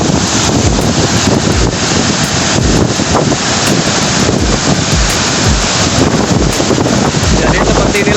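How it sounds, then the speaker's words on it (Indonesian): At a waterfall reached through the forest, heavy spray and wind pound the camera microphone, making a loud, constant, rushing roar with rumbling buffets and no voices. "Kamera yang kami bawa, guys, terkena hujan butiran-butiran air yang cukup"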